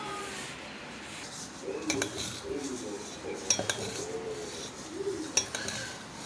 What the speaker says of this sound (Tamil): எல்லாத்தையும் சேர்த்து அப்படி கலந்து விட்டுக்கலாம்